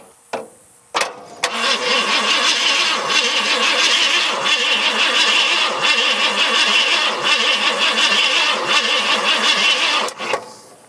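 An abandoned Ford F100's engine cranks over on a universal key, a loud steady rapid whirring churn lasting several seconds without catching, bracketed by clicks and a short pause.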